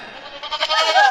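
A goat bleats in a wavering, nasal cry that rises and strengthens toward the end, close and fairly loud with no speech over it.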